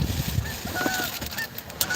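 Several geese honking close by at a fishing spot, loud, overlapping calls repeating in quick bursts with no talking.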